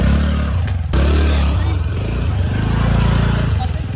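A KTM Adventure 390 motorcycle rides an off-road trail in Purulia, its engine holding a loud, close, low drone with rattling clatter and a short break before it pulls on again.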